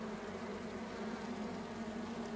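A steady, dense buzz of many honeybees hums continuously up close at a hive, with no other sounds.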